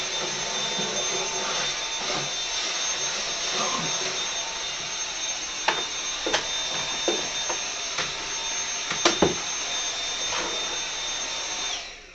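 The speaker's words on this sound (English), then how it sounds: "let's use it just to vacuum the dust that picks up when you're using your home office" A Dyson V7 cordless vacuum cleaner runs with a steady high-pitched motor whine and airy suction roar while picking up home office dust, with intermittent clicks and bumps as the head moves; a voice talks briefly underneath.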